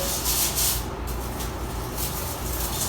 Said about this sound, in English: just do around the bowl with the cleaning solution and give it a nice scrub, especially under the lip